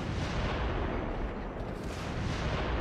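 Mortar fire in the video game Haze comes through as a dense, continuous roar of blasts and rumbling, moderately faint and steady for about three seconds.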